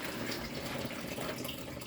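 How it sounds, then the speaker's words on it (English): Water and oil poured into a mixing bowl while preparing dough, a steady close gush running without a break. "Water and oil. Dump it into the bowl."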